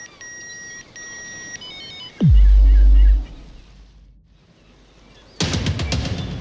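A phone ringtone plays twice as short electronic beeping bursts near the start, followed by a deep low thud and a rumble, and later some noisy clatter.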